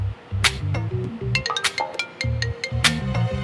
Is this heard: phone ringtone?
yes